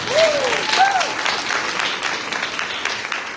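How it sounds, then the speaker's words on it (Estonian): An audience at a school championship final in Tartu claps steadily and fairly loudly for a finalist, a dense patter that runs throughout with a brief voice rising above it at the start. "plaksutame talle ka"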